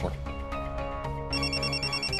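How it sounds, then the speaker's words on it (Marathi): A telephone rings in a Marathi TV serial scene, a steady electronic ringtone that grows brighter partway through, with a musical bed underneath. "कस्तुरीचा फोन."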